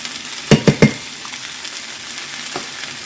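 Tomato soup goes into sizzling ground beef for nachos, giving three quick sharp splattering bursts close by followed by a quieter simmer and one faint later pop.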